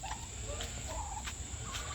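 Young wild turkeys near a garden give a few short, bubbly gobbling calls, fairly faint and spaced apart. A steady high insect-like whine runs beneath them.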